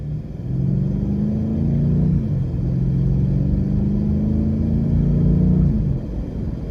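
A 2019 BMW M850i accelerating on a test drive, heard from inside: a loud, steady engine drone that climbs in pitch, dips at a gear change, then rises again.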